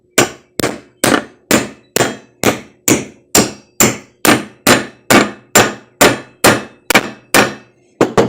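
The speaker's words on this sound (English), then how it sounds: "You take the new bushing and insert it into the wheel like this, and then just tap it on down in with a hammer." A hammer taps a new bushing down into a lawn mower wheel, striking about sixteen sharp metallic blows in a steady, even rhythm, close and loud, with a short pause before two final quick hits.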